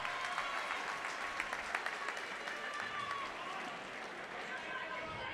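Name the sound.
audience applause for muay thai fighters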